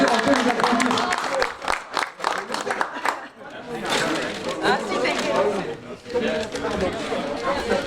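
A crowd at a student solidarity jobs awards ceremony applauds the winners with bursts of clapping, and chatter and voices mix in and continue under and between the claps.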